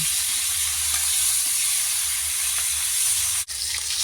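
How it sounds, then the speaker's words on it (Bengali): Catfish fry in oil in a pan, giving a steady, loud hiss with a few faint knocks as the pieces are turned, and one brief dip near the end. "এটাকে আমি একটু উল্টে পাল্টে ভালো করে ভেজে নেব"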